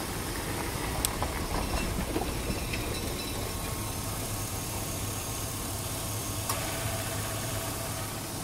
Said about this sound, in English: Let's go turn the truck on and see what happens.